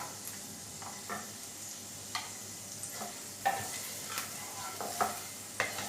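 Cashew nuts sauté in a pan with ginger and garlic, a soft sizzle beneath repeated scraping and clicking stirs at an uneven rhythm, close and fairly quiet, without any speech.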